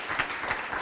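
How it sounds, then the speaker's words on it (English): Brief, dense applause from a seated audience at an AI panel session, a continuous patter of many hands, moderately loud. "Let's give a applause."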